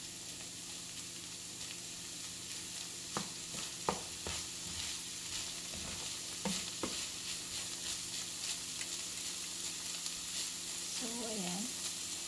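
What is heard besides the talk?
sautéing onions for beef sisig in a pan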